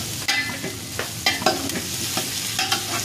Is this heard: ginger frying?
yes